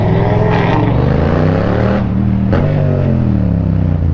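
A car engine revs loudly and close by, its pitch rising and falling through several throttle blips, with a thin, buzzy tone likened to a lawnmower engine.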